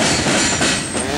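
A CSX Q464 freight train rolls along double track toward Florence with a loud, continuous rumble and grinding wheel noise, close by and steady, with faint metallic squeal mixed in and no talking.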